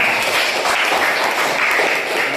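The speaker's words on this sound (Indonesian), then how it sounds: "Tepuk tangan untuk kawannya." A classroom of students applauds for a classmate, a dense, steady wash of clapping that stays loud and even throughout with no pauses.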